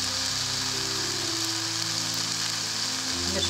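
Boiled, salted macaroni sizzles and fries steadily in hot olive oil, a continuous close crackle with no talking.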